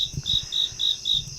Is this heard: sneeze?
no